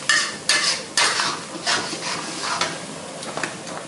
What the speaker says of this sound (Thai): ผัดแป๊บเดียวนะคะพอให้ไข่สุกเป็นริ่มๆนะคะ